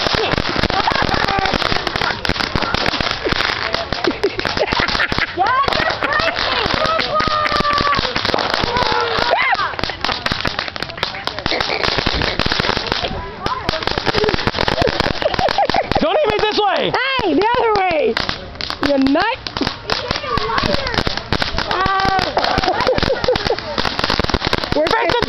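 New Year fireworks, mortars and a sparkler going off outdoors, a dense continuous barrage of loud crackling bangs and pops with people shouting and talking throughout.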